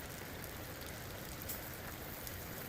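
Water sprays hard from a shower sprayer onto raw chicken pieces being rinsed during kosher slaughter processing. The hiss is dense, steady and close, with no breaks.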